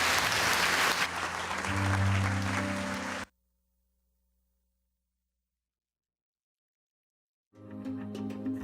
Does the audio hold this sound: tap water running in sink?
no